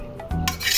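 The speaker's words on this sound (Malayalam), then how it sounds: "നന്നായി ഇളക്കി കൊടുക്കുക." A spiced mixture of pepper and peanuts is stirred in a pan, giving close, scraping rubs and rasping swirls that grow louder and more continuous toward the end, with no voices.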